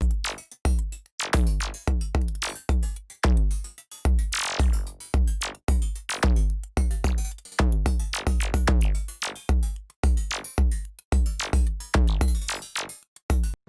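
Punchy electronic drum pattern from a Pure Data IDM patch playing alone, with booming kicks, snappy hits and a sweeping noise burst, looping steadily and loudly throughout.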